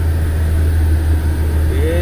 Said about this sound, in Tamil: டாட்டா சிக்னா லேட்டஸ்ட் நான் ஓட்டுறது இப்போ போயிட்டுருக்கு